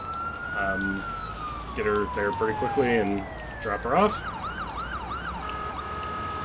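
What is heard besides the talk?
ambulance siren in video game Ambulance Life: A Paramedic Simulator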